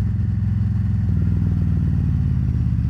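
A motorcycle nicknamed Big Red, loud and close while being ridden, with its engine giving a steady, throbbing low rumble and no break throughout.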